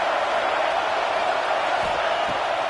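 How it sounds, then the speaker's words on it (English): Football stadium crowd roaring loudly, a dense sustained wall of cheering and whoops that fills the whole moment without letup. "And with this place rocking, the crowd forces a false start."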